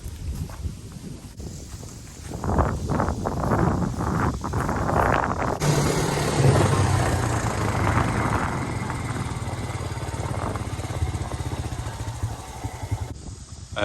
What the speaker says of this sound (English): Man, it's super windy today.